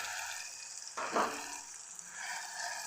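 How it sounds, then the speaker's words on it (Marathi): Ground spice paste drops into eggplant already frying for a Maharashtrian bharit, giving a sudden louder burst of sizzling about a third of the way in that settles back into a steady, moderate hiss of oil and cooking. "मी यामध्ये मी हे वाटलेलं वाटण टाकून घेते"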